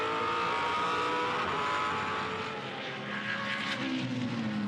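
Supercars race car engines roar loud and close throughout a championship race, a sustained high-revving blare with pitch sweeping as a Holden and rivals battle through the corners, no voices over it.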